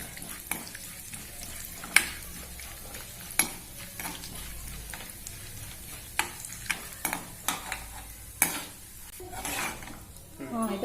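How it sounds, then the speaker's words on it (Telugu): Cumin, urad dal and chana dal stirred as they fry in a pan for a carrot fry, a steady sizzle broken by repeated scraping strokes and light clinks of the spoon against the pan, with no voice over it. "జీలకర్ర, మినప్పాలు, శనగబ్యాళ్ళు వేసి కలబెట్టాలి."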